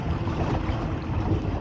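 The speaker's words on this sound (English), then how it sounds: "Yeah, I know it's pretty windy." Strong wind buffets the microphone on a lake while trolling for trout from a boat, a continuous broadband roar with no speech.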